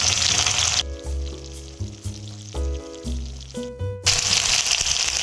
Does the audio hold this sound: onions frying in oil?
yes